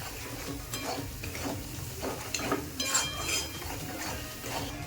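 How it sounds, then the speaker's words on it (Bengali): Spices for chicken kheema stirred in a frying pan, rhythmic scraping strokes of a spoon over a soft sizzle, close and fairly quiet. "এবার সব মশলাকে একটু ভালো করে নাড়িয়ে নিতে হবে।"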